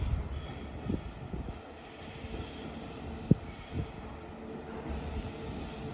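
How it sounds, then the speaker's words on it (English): A Northern passenger train, unit 195121, pulls away from York station on the East Coast Main Line, a steady low rumble and drone with a single sharp clank midway and rising engine noise toward the end. "Now departing is a 1609 Northern service to Leeds."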